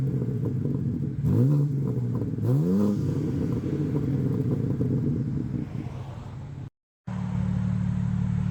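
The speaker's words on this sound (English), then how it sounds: "let you hear this on some light revs, as the engine is now up to temp" A warmed-up BMW M4 Competition idles with a deep, steady rumble, punctuated by two quick, light throttle blips that rise and fall sharply, recorded close behind the car with no voices.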